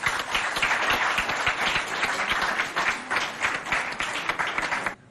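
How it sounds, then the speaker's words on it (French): Audience clapping hard for school representatives at a televised school quiz contest, a dense, loud burst of many hands applauding evenly before cutting off abruptly near the end. "On les applaudit bien fort."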